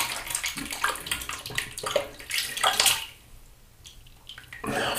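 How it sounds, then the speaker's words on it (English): Running water splashes over a hand being rinsed at a sink, a close, busy gush that briefly thins out and then picks up again. "All right, let's rinse my hand."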